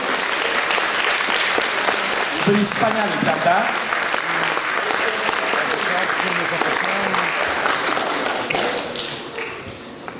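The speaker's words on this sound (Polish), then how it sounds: "Brawa dla no cosplayerów" An audience at the Polcon 2016 costume contest in Wrocław applauds the cosplayers with loud, sustained clapping, while a voice speaks briefly over it before the applause thins toward the end.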